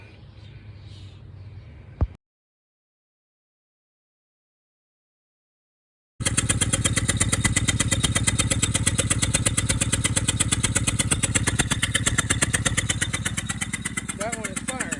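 An engine being checked for spark plug firing runs with a steady, rapid pulsing beat, loud and close, starting abruptly after a few seconds of silence, with a short stretch of faint noise before the gap.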